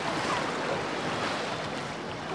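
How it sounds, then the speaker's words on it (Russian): Continuous wash of Black Sea waves breaking nearby on a rocky shore at Anapa, a soft churning roar without distinct pauses. "Ой, волны!"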